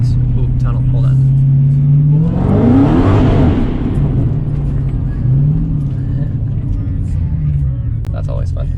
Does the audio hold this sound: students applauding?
no